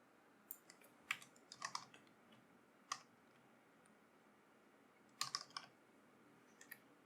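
Computer keyboard typing while renaming a geodatabase, heard as scattered short bursts of light key clicks with pauses between them, fairly quiet, with no talking.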